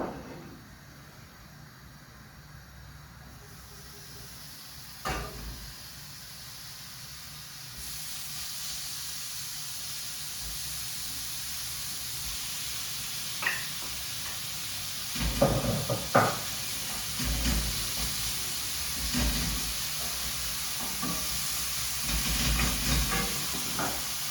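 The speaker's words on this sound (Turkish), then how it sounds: "Onu dediğim gibi tereyağı ve soğanla güzelce kavuralım." Steady sizzling hiss of minced meat frying with butter and onion in a pan, with occasional clatters and scraping of utensils close by.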